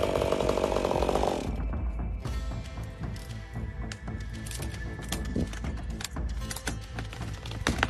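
A chainsaw cuts into a tree during felling, a loud, steady engine whine at first that drops into a rougher, uneven buzz with crackling wood, running continuously close by.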